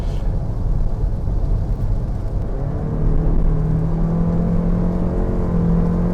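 Lexus NX450h+ plug-in hybrid accelerating on the road, its engine a steady whirring drone that swells and rises in pitch midway, heard from inside the cabin with constant road rumble and no talk.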